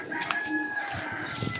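A rooster, apparently one of a breeder's chickens, gives a short crow amid outdoor background noise, moderately loud and over in about a second.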